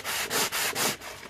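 A knife blade is rubbed with 220 grit sandpaper in four quick, even back-and-forth strokes, a close, rasping hiss with brief pauses between passes, heard alone.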